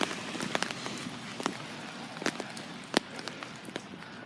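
Rain falling during a windy storm in a front yard, a steady wash of drops with scattered sharper taps and splats nearby.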